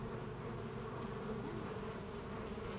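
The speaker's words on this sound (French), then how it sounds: "Les abeilles peuvent être dangereuses." Honey bees swarm around their hives in the countryside, a dense, steady buzzing hum that stays even and close throughout, with no voices.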